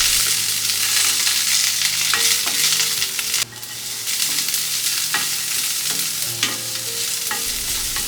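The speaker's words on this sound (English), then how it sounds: "Then add in a bit of urad dal, curry leaves, chopped onions and green chilies and saute until the onions turn soft." Urad dal, curry leaves, chopped onions and green chilies sauté in hot oil with a loud, constant sizzle, while a spoon stirs and scrapes the pan in repeated strokes.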